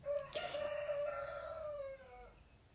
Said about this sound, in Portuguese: E esse galo aí vai ficar cantando.